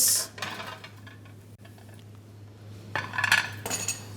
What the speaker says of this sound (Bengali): আমরা নিয়ে নিচ্ছি আমাদের ডিশেস।